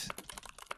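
Quick, light clicking of keys on a computer keyboard, a short close burst of typing with no talk.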